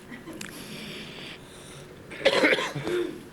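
A few faint coughs, then a louder burst of harsh coughing near the end, close by and otherwise quiet.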